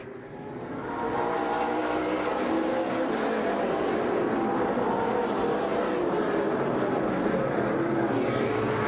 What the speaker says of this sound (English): Mackesy again trying to find the inside line on Banetsky.